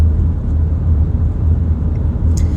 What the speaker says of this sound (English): I am driving a Suzuki Landy.